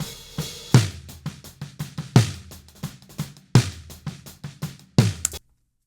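A Dialtune snare drum tuned very low with its top head nearly slack, played in a groove with deep, thuddy accents landing about every second and a half among lighter hits and cymbal wash, then stopping abruptly.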